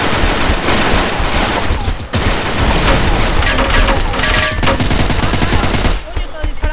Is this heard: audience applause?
no